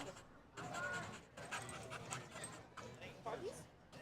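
Three dogs panting and whimpering outdoors beside a college sports event, fairly close and steady, with people talking over them throughout.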